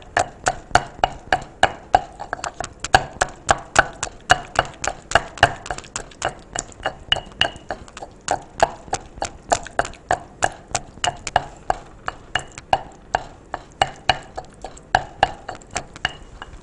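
Steady rhythmic pounding of sliced garlic in a mortar, repeated sharp strikes about three per second, close and loud, continuing without talk.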